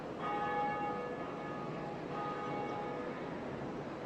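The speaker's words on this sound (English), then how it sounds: "We're ringing the bell." A church bell rings in the Dark Souls video game, one sustained bell tone with a long shimmering resonance that fills the whole stretch, loud and alone without any voices.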